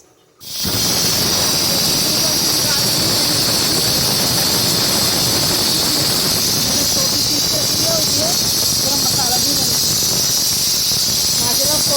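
An electric kitchen grinder runs loud and steady, regrinding coarse garam masala with a continuous high whine and hiss that starts abruptly after a brief quiet moment and holds to the end.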